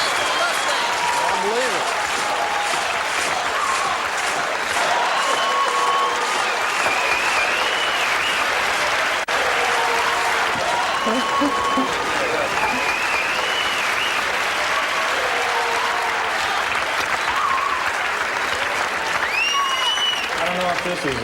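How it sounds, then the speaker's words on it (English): A live audience at a comedy concert show gives sustained loud applause and cheering that fills the whole stretch, with a few voices calling out over the clapping. "a big hand to Joe Bob Briggs"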